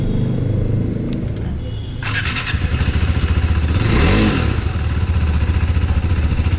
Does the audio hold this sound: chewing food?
no